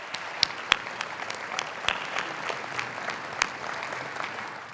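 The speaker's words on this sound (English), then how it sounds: "Let's give them all a round of applause." An audience at an awards luncheon claps steadily, a dense patter of many hands with a few sharper, louder claps standing out, sustained throughout.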